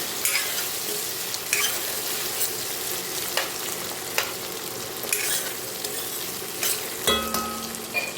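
Boiled potatoes and onions hit hot oil in a pan and sizzle steadily, with stirring scrapes and clinks now and then, close and fairly loud throughout.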